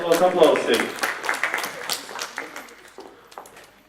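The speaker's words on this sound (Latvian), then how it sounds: "Aplaus." Audience applause in a contest hall, a burst of many hands clapping close and loud that gradually thins and fades over a few seconds, with voices mixed in.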